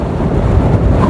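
Strong outdoor wind roars and buffets the microphone in a loud, continuous low rumble.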